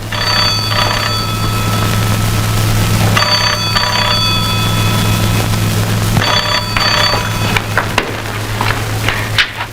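A telephone rings loudly in repeated double bursts, three ring cycles over a steady low hum, with no one speaking.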